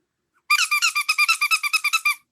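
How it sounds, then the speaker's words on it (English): An egg-shaped rubber squeaker toy is squeezed rapidly as a timer signal, about fifteen loud, evenly spaced high squeaks in a quick two-second run, alone in near silence. "When I squeak the squeaker, which is this egg"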